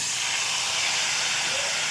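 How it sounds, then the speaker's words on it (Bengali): Ground spice paste hitting a hot pan of deep-fried onion, ginger and garlic, giving a steady, loud broadband sizzle that hisses continuously throughout with no talking. "এবারে দিয়ে দিলাম গুঁড়ো মশলার পেস্ট।"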